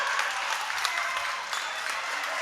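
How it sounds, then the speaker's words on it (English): Applause from a basketball crowd, with St. Mary's coach Tom Gonsalves clapping for his team's effort; a dense, steady wash of clapping runs the whole time at close range. "Coach Tom Gonsalves clapping, applauding his team's effort"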